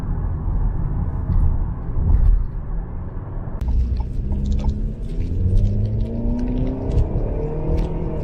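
A Renault SM6 Prime under hard acceleration, its engine revving up toward about 5,600 rpm through a continuously variable transmission, giving a deep steady rumble heard from inside the car with a rising drone and no voices.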